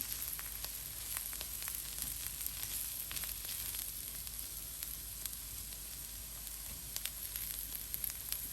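Clam fry with curry leaves sizzling in a pan, a faint steady crackling hiss with occasional light pops and clicks, soft and even throughout with no voices.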